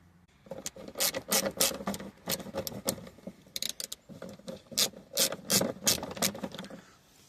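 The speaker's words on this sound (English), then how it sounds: "there's this little 7mm screw that goes back in here" A small 7mm screw is driven back into the A-pillar trim of a 2008 GMC/Chevy pickup, giving repeated close scraping and ratcheting bursts in an uneven rhythm, with no talking.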